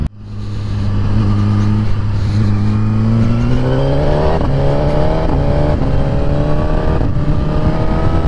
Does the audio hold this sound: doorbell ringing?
no